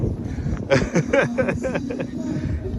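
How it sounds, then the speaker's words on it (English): Gusty wind buffets the microphone in a steady rushing roar in Central Park, New York City, with a person talking over it for much of the time. "It's a little windy."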